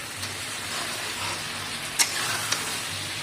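Onions and spices with Kashmiri red chili sizzle in hot oil while being stirred, a steady soft hiss throughout with a couple of sharp clinks of a utensil against the pan.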